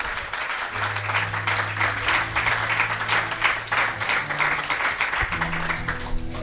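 A church congregation applauds together in a steady, dense wave of clapping that fills the room throughout, with a few voices faintly mixed in underneath.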